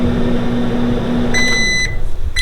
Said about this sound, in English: Put it back in the microwave for 1 more minute.